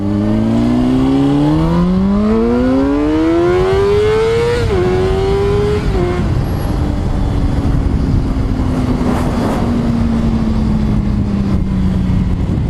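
A 2005 Honda CBR600RR motorcycle accelerating hard through the gears, its engine pitch climbing steeply, then dropping at each shift and holding as it pulls away, loud and close under heavy wind noise.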